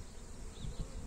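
A low, steady buzzing of honey bees at an apiary after catching a swarm, close by, a continuous drone without voices.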